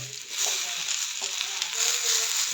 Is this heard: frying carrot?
yes